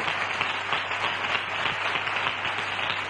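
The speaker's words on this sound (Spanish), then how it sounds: "denle un aplauso a Dios" Church congregation applauding, a dense, even wash of many hands clapping continuously at moderate volume, with no clear speech over it.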